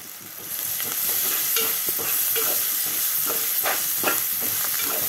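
Fresh ginger garlic paste frying in hot oil for a dondakaya curry, a steady close sizzle with soft intermittent stirring scrapes, continuous and without talk.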